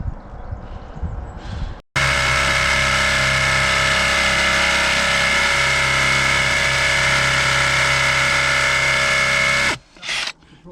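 A drill bores down through stone beneath a lifted floor tile with a steady, loud, grinding whine that runs for about eight seconds, then stops, followed by a short restart burst.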